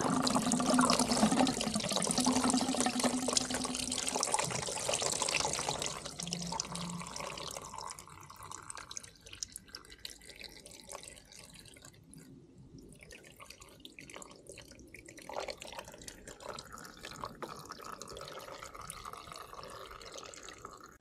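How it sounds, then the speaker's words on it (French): Coolant draining from a Kymco 250 KXR quad, a steady close trickle and splash of liquid at first that thins into scattered drips and faint splashes. "obligé de vidanger du coup le liquide de refroidissement"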